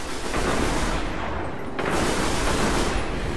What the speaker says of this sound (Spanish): Por ahí que se están pegando tiros.